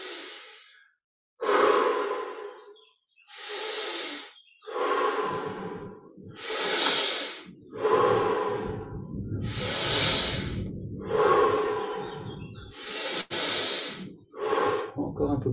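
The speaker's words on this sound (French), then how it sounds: "On augmente un petit peu l'amplitude de la respiration." Deep, forceful breaths during a guided breathing meditation: about nine long inhale and exhale cycles, loud and close, each a breathy hiss separated by short pauses, with no speech.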